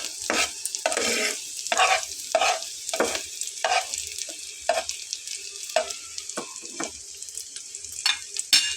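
Chillies fry in a pan beside onion and garlic for a fish bharta, heard as bursts of crackling sizzle and stirring scrapes in uneven pulses, fairly close and loud, with no one talking.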